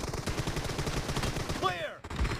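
M416 rifle gunfire in a team deathmatch video game, a dense rapid burst of shots running almost continuously, loud and close, with a voice speaking near the end.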